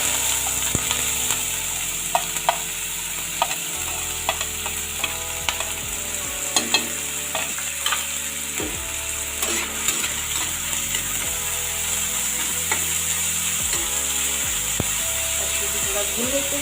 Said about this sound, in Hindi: अब हम इसमें ऐड कर रहे हैं बारीक कटा हुआ प्याज